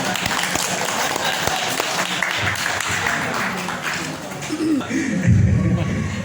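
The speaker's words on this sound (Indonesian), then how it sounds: "Tepuk tangan." Applause at an Arabic teachers' working-group visit to a madrasa in Jombang, steady crowd clapping throughout that thins toward the end as voices and a low hum come in.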